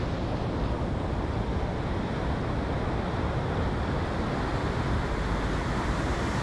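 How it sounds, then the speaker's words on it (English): Water pours over a big weir in the countryside, a constant, broad, hissing roar with no breaks, loud and even throughout. "some big old weir"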